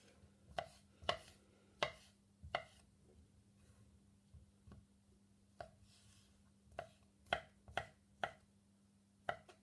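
A knife dices an inch-thick slice of black pudding on a board, sharp close chops in irregular bursts with pauses between, over a low steady hum.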